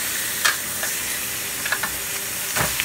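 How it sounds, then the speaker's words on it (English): Chicken sizzling on a grill right after being flipped, a steady close hiss with a few brief scraping bursts from a utensil, alone without talk. "it's been grilling for about 5 minutes, so we're gonna flip it around."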